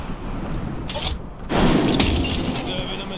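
A frag grenade blast in the video game Apex Legends: a loud broadband boom midway that rolls on with crackling debris, amid bursts of gunfire and a character voice.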